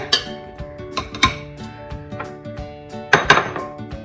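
Butter and flour going into a bowl for shortbread dough, with several sharp clinks and knocks of a utensil against the bowl, close and alone.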